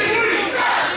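Wrestling crowd at a POWW battle royal roaring and yelling steadily for one second, a dense, loud wall of cheering voices with no break.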